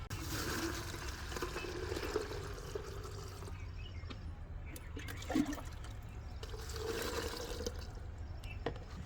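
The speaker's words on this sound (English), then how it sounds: "Now add warm water to all 3 containers." Warm water poured into a row of containers holding plant-feed ingredients, a continuous close splashing and trickling with two louder pours separated by a quieter stretch, no voices.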